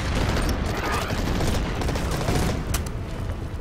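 Artillery and gunfire in the war strategy game Order of Battle, a dense, loud rolling barrage of booms and crackling shots that continues without break.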